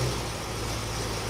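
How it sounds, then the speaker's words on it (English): A car engine with an AOD automatic transmission idles in park, a steady, fairly quiet low hum that holds constant without revving. "Start the engine in park and wait 15 seconds for the oil to circulate."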